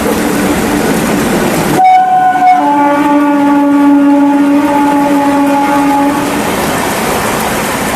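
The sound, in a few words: train passing by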